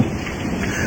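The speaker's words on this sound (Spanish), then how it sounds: "Los truenos y las primeras gotas de lluvia que empezaban a filtrarse por el techo" Dense rain hissing steadily with low rumbling thunder beneath it, a continuous stormy backdrop for a suspense and horror radio drama, with no voices.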